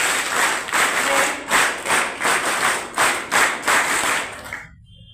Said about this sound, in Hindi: पर इनके भी जोरदार तालियां हो जाए।